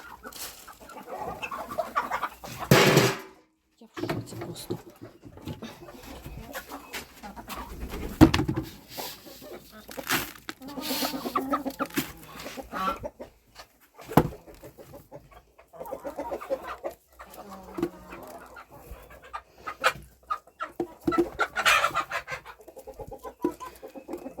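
Hens cluck and squawk close by in an outdoor yard, with a busy, irregular chatter of several birds and occasional louder bursts.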